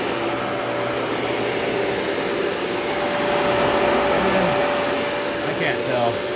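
A Dyson Cinetic Big Ball vacuum cleaner runs with a steady, loud whirring drone as it sucks up fine particles, with a faint voice briefly audible near the end.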